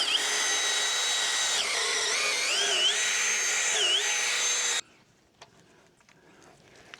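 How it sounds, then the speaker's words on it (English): A power drill whines loudly and steadily, its pitch dipping and rising as it bites in, then cuts off sharply and leaves faint clicks and rustles. "I'm gonna drill a hole through here to help keep the rope captive up high."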